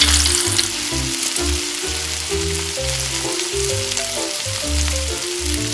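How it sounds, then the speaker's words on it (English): Steady oil sizzling and crackling as stuffed squid fries in a pan runs throughout, with a pulsing low musical bassline and tones playing over it. "When the oil heats up, drop the squid into the frying pan."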